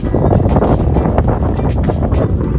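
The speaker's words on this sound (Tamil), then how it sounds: "காற்று சரியான காற்று" Strong wind buffets the microphone outdoors among rocky terrain during a Kerala ride, making a loud, continuous low rumble with no talking.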